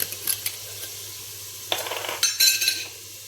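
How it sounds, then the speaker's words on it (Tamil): Curry leaves sauté in a pan, giving a faint steady sizzle under a low hum, with scraping and clinking of a utensil stirring in short bursts. "இது லேசாக வதங்கணும்."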